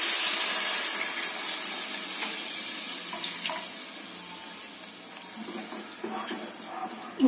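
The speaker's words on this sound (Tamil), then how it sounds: "இப்ப நம்ம எடுத்து வச்சிருந்த புளி வந்து நம்மளுக்கு தேவைக்கேற்ப ஆட் பண்ணிக்கலாம்." Tamarind water pours into a pot of bitter gourd curry, giving a steady watery rush that slowly eases off over several seconds, with a few faint clinks underneath.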